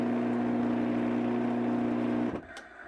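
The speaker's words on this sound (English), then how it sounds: "I think that one of the shaft bearings is loose in the housing, which is sometimes an issue on cheap Chinese-made motors like this." Cheap Chinese-made lathe motor with a loose shaft bearing hums steadily with a tonal, slightly higher drone and rattly whir, close and loud, then winds down abruptly with a short clunk.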